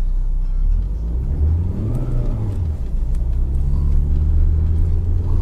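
A 2020 Lada Granta with an automatic gearbox accelerates in light fresh snow, wheels slipping: a steady, close engine rumble and whir that rises in pitch and strength over several seconds, with no talking.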